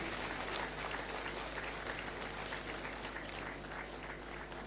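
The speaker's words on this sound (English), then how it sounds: "he deserves applause of all and sundry" Audience applause at a Supreme Court 150th anniversary ceremony in Ghana, a continuous wash of many hands clapping, steady and evenly spread, heard at a moderate distance with a low hum underneath.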